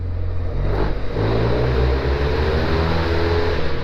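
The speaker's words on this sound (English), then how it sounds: "Cool, let me rev it up." A Honda Silverwing scooter engine runs steadily with a low, continuous rumble, a brief rev rising near the start before settling into a constant drone.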